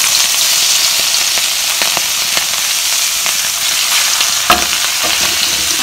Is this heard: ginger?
yes